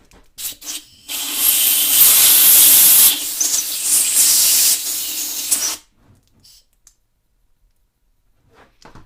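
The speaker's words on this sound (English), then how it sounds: "Hit it with compressed air again." Compressed air blasts hard across a Briggs & Stratton 4.5 hp carburetor during cleaning, a loud steady hiss lasting about five seconds after a few short bursts, then cutting off to near silence.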